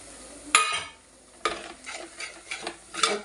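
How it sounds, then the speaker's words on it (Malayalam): Spice powders roast in a pan for a Kottayam-style fish curry, with several quick, close spoon scrapes and stirs over a faint, low sizzle. "ബാക്കിയുള്ള പൊടികളും കൂടെ കൂട്ടത്തിലോട്ടിട്ട് നല്ലതായിട്ട് മൂപ്പിച്ചെടുക്കുക"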